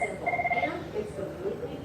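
A telephone rings with an electronic warbling tone, a short burst repeating under a person talking nearby.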